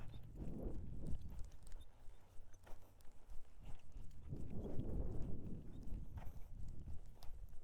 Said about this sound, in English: Look how pretty that little trot is.